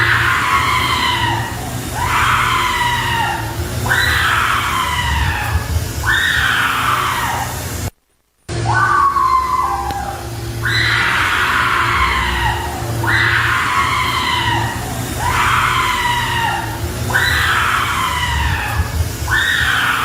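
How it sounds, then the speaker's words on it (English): A woman screams loudly again and again in a recording, each shrill cry rising then falling in a regular series, broken by a brief gap of silence partway through before the screams resume. "repeated loud screams from a female can be heard."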